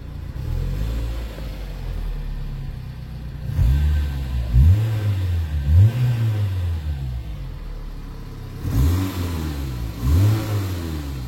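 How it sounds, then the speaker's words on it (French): A Peugeot 306 engine idles low, then revs up in several quick blips, each rising and falling back, moderately loud and nearby with no talking. "je vais donner quelques coups de gaz"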